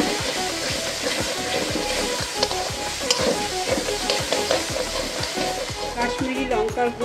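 Chicken frying in ghee with chicken curry masala, stirred in a pan: a steady sizzle runs under regular scraping strokes of a spoon against the pan, close and fairly loud.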